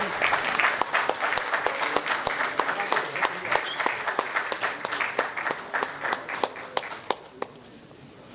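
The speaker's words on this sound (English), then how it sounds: "Please give a big round of applause." Audience applause at a university health sciences session on tuberculosis, steady dense clapping from a seated crowd that holds for several seconds before thinning out and fading near the end.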